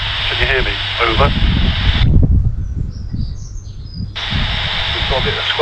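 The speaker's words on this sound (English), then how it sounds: "We've got a bit of squelchy noise" Cheap walkie-talkie radio outdoors in a garden, with a speaking voice on the channel cutting to hissy squelch static in the middle before the transmission returns, talk heard throughout.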